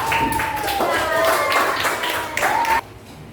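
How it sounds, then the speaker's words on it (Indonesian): Students in a primary-school coding lesson clap together briefly after a classmate answers, a bright, busy patter of hands that stops abruptly near the end, with a faint tonal sound running through it. "Beri tepuk tangan Ananda."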